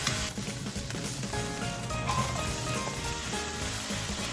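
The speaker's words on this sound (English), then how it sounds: "Pork has been nicely seared." Pork searing in a hot pan, a steady close crackling sizzle with fine popping throughout, fairly loud and unbroken, no talking.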